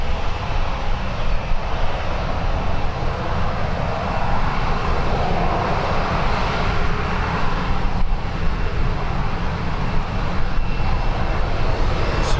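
A TUI airliner on the runway at Birmingham Airport gives a steady, loud, broadband engine roar that stays constant throughout with no voices.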